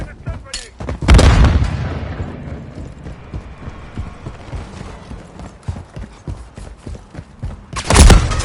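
Gunfire in Modern Warfare 3 multiplayer, with bursts of shots and heavy booms rattling irregularly at mid distance, loudest in blasts at the start and end.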